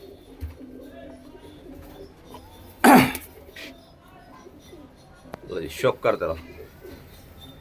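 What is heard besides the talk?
Punjabi Malwai pigeons cooing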